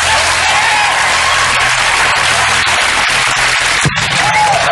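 A studio audience cheers and applauds in a steady, dense roar during a Norwegian TV game show, the clapping broad and continuous throughout with only a brief dip near the end.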